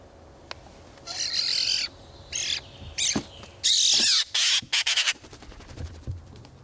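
Magpies call out of doors with harsh, rattling chatters and squawks in several separate bursts. A faint background hum sits under the calls, and no one speaks.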